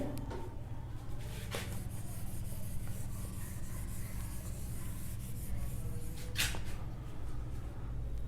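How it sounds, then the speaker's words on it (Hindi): An eraser rubs out marks on paper in steady, soft scrubbing strokes that run close and quiet throughout, with a couple of brief, brighter swipes. "फिर इसको मैं रब कर रहा हूं।"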